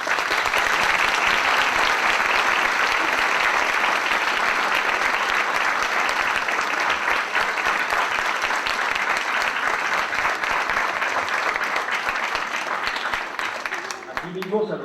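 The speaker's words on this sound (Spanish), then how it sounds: "para quien pido un aplauso" Sustained applause from a large conference audience fills the room for a keynote by a national bank director in Mexico, steady and dense throughout before tapering slightly at the end.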